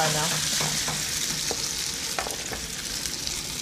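Potatoes frying in butter in a pan for crab hash give a steady, close sizzle with occasional stirring scrapes and clicks throughout. No one speaks.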